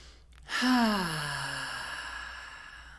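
A single deep breath, part of a group taking three deep breaths together, rises sharply and then trails off as a long, soft sigh of exhaled air.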